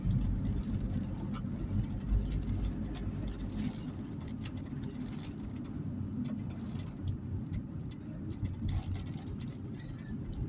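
A TX2 taxi with a 2.4-litre engine hums along while driving, heard from inside the cab as a steady low rumble with road noise and occasional ticking.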